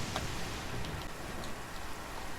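Steady rain from the video game Genshin Impact, a continuous even hiss of falling drops with a few faint ticks, alone throughout.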